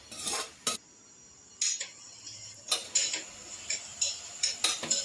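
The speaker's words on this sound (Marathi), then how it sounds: "त्याच्यामध्ये आता हा जो भोपळ्याचा खीस आहे तो आपण परतून घेऊया" Grated pumpkin sautéed in ghee in a pressure cooker, heard as a series of close metallic clinks and scrapes from a spoon stirring against the pot, with brief quiet gaps in between.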